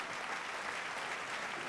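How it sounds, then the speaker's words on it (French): A church congregation applauds: dense, continuous clapping from many hands, even and sustained, at moderate distance with no voices. "Un fuerte aplauso."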